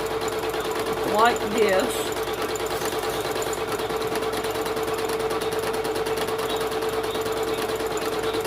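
Sewing machine back-stitching a tool bag, a steady rapid mechanical chatter running throughout at close range, with a person briefly speaking over it.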